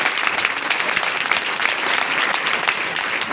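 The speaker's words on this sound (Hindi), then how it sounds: "हाँ ताली दीजिए" A live audience at a show claps in a loud, steady, dense burst of applause that holds evenly throughout with no speech over it.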